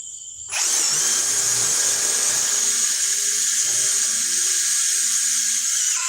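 A handheld power drill starts abruptly and runs continuously at full speed, a loud, steady high whine with no talk over it.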